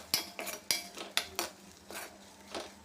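A spoon stirring chilli powder into a gongura curry with meal maker and dried prawns in a metal pan, making sharp clinks and scrapes roughly every third of a second, close and clear, with no speech.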